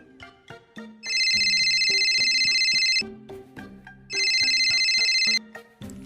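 An outgoing phone call rings back in two long electronic ring bursts, clear and fairly loud, separated by a pause, with light background music between them and no talk.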